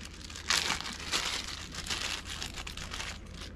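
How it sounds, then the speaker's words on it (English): Plastic crinkles and rustles steadily up close for a few seconds, with sharper crackling bursts and no voices. "it is a little plastic bag"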